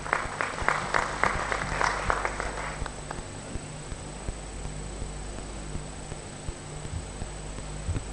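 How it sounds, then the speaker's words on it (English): Audience applause for Dr. Mutaha at a county executive committee induction session, a burst of clapping for a few seconds that fades into quiet room noise with scattered small knocks. "Another round of applause for Dr. Mutaha"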